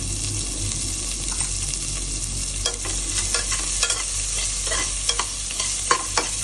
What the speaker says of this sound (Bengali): নাড়াচাড়া করে পেঁয়াজগুলো খানিকটা ভেজে নেব